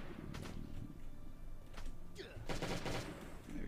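Automatic weapon fire in the survival game Last Day on Earth, in a police station yard, short bursts of shots spaced apart, with a sliding scrape between them and someone talking over the action.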